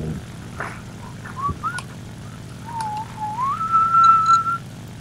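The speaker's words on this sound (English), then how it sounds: "Stop whistling, please." A person whistles a short rising tune in brief notes, then a long wavering note that slides upward and holds, heard over the low hum of an engine while playing War Thunder.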